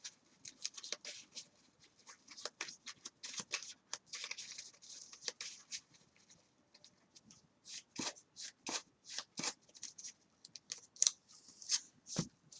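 Deck of trading cards being shuffled by hand, quick riffling bursts and soft flicks repeating in uneven clusters, close and quiet.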